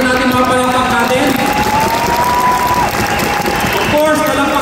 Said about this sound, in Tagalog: Pwede ba lakasan natin mga palakpak natin?